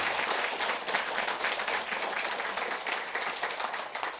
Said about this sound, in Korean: 마지막으로 박수 한번 칠까요?